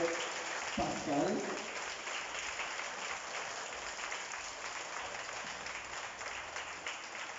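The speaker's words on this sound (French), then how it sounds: "réapplaudis un coup très très fort" Spectators at a foundation event in Mauritius clap loudly for Pascal, a continuous, moderately distant patter of applause, with a short burst of voices near the start.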